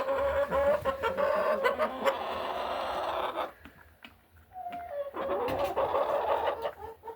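Several chickens cluck and chatter close by, busy and continuous, with a brief quieter pause midway before the clucking picks up again.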